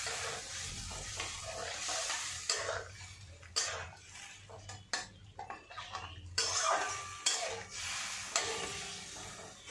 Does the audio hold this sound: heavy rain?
no